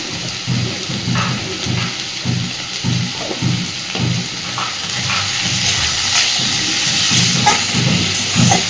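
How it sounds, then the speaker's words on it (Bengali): Potatoes and onions fry in a pan with salt and turmeric, making a steady close hiss with soft, rhythmic low knocks as they are stirred. "লবণ হলুদটা দিয়ে দিলে আলু পেঁয়াজ খুব তাড়াতাড়ি সুন্দর করে ভাজা হয়ে যাবে।"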